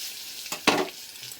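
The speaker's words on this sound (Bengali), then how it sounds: "চলুন আলুগুলো দিয়ে দিই, পটলগুলো বেশ সুন্দর ভাজা হয়ে গেছে" Pointed gourd pieces fry in hot oil in a home kitchen pan, and a quick stir sets off a sharp burst of sizzling over a steady low crackle.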